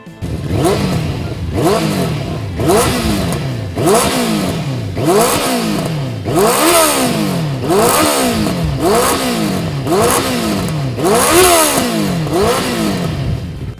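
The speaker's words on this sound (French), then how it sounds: "La sonorité caverneuse du moteur laisse présager un caractère trempé." The four-cylinder engine of a Benelli BN 600 R motorcycle revs up and down again and again in a steady rhythm, loud and close, each rise ending in a sharp drop.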